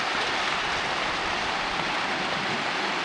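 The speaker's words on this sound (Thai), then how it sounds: "ฝนตก" Rain falls steadily, a dense, even hiss of drops that stays constant throughout, with no one speaking.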